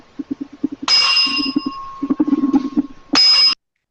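A small bell aboard the U.S.S. North Carolina battleship rings in two bright, sustained strikes with a long ringing tail, separated by soft tapping and knocking sounds.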